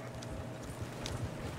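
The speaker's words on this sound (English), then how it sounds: "How do we slow this horse down?" Horse hooves clip-clop steadily as a horse is ridden in a video game, a quick continuous rhythm of fairly close thuds over a dense background.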